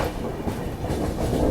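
A train pulls into Chandrawatiganj railway station on the way to Indore, with a loud, close, steady rumble and clatter of rolling wagons that builds slightly near the end.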